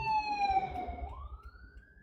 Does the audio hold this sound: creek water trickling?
no